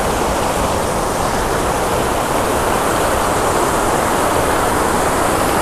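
A large waterfall in Neelam Valley, Kashmir roars steadily and loudly, a dense unbroken rush of falling water close by with no voices.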